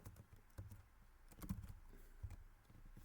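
Someone types code on a computer keyboard, soft quiet key clicks in an irregular patter, heard close and alone with no talking.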